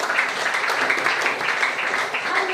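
Audience applause at a DXN motivational talk: dense, steady clapping from a crowd, sustained and fairly close for the whole stretch.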